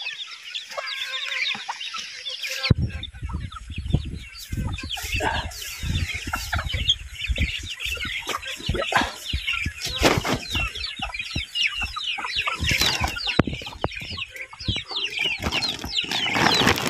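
Many chickens cluck and chatter close by while being fed on a farm, with bursts of wing flapping and scratching throughout after a brief quiet start.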